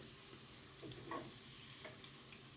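Fish cutlets fry in a pan with a faint, steady sizzle, broken by a few soft ticks and pops.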